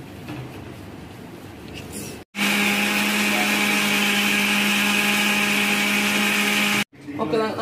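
A kitchen mixer grinder whirs loudly and steadily for about four and a half seconds while blending Vimto juice with milk and sugar, then cuts off abruptly; brief talk frames the run on either side.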